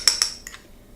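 A utensil clinks sharply against a bowl while mixing raw vegan cheese made with basil and garlic: two quick close metallic taps, then a fainter one, followed by quiet.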